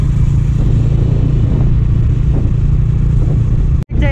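An 800cc Triumph Tiger motorcycle idles close by with a loud, steady low engine rumble and faint clatter, cut by a brief dropout near the end and with no voices.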